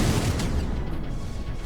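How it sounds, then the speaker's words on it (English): Cannons in the video game Particle Fleet: Emergence fire in a dense, booming barrage, a loud continuous rumble of overlapping blasts with no voices. "These cannons are helping."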